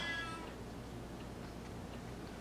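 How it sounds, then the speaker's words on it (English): A meowing novelty clock mounted on a wall overhead gives a brief cat-like meow right at the start, followed by a faint, steady room background. "I have a clock that meows up above my head"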